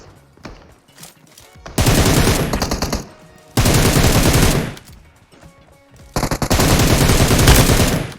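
Gunfire from the video game PUBG Mobile, loud rapid automatic bursts close by, three long sustained volleys separated by brief quieter gaps with scattered single shots and clicks.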